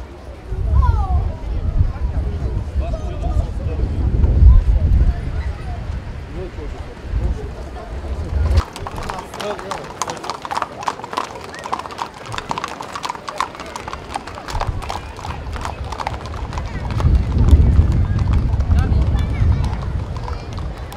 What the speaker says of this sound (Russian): Военный парад продолжает конная группа погрануправления ФСБ России в Южной Осетии.